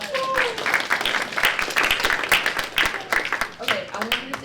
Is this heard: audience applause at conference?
yes